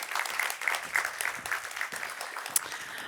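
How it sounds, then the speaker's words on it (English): Applause from a conference audience, steady scattered clapping at moderate distance, fairly quiet and continuous throughout. "A big applause"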